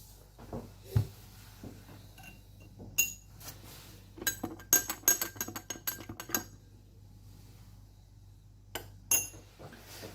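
Ionic salt is added to white spirit in glassware, giving a burst of close glassy clinks, taps and rattles, then a quiet stretch before two more clinks near the end.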